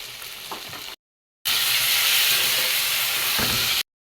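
Onion, tomato, potato, salt, turmeric, chili powder and cumin powder sizzle and hiss loudly in a pan, a steady frying roar broken by a brief silent cut, with faint stirring scrapes.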